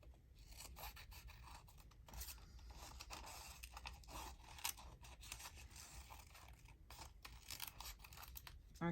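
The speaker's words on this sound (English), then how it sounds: "I just might snip all those bits off and go around the umbrella without being too fussy" Scissors snip and rustle through bits of old ledger fabric tags close to the microphone, quiet irregular cuts and rubbing scrapes continuing throughout.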